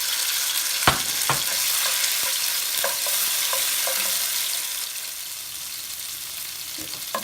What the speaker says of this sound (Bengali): তেল গরম করি রসুন পেস্ট দিলেই